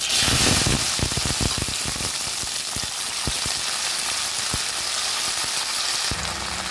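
Long beans (barbati) frying in hot oil in a kadai, a loud continuous sizzle and hiss like heavy rain, punctuated by scattered sharp pops and spatters.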